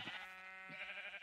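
Sheep bleating in the Minecraft video game, a single short, fairly faint nasal bleat heard alone.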